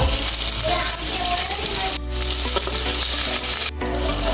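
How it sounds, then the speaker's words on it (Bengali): Lote fish cutlets fry in hot oil in a kadai with a steady bright sizzle, close and loud, broken by a couple of brief dips as pieces are added or shifted. "কড়াইতে তেল গরম হয়ে গেছে। এবার একটা করে ছেড়ে দিচ্ছি কাটলেট।"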